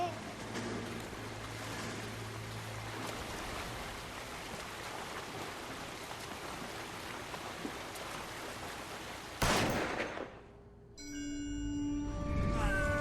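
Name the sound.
gunshot in L.A. Noire video game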